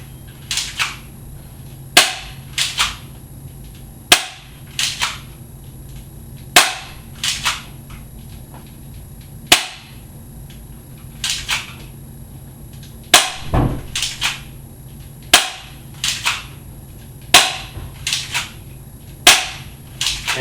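Crosman Stinger P311 spring airsoft pistol firing 0.12 g BBs, a string of sharp, snappy close-up cracks at irregular intervals of roughly one to two seconds, each followed by a faint impact.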